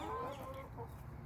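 Hens cluck close by inside a chicken tractor, a short run of soft, throaty clucks and murmurs.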